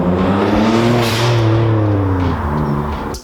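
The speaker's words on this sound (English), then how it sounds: "you've got the blow-off valve noises" A Mitsubishi Galant VR-4 with a turbocharged engine and stock airbox revs up and falls back in loud, close pitch sweeps, and a short sharp burst at the very end suggests the turbo blow-off valve.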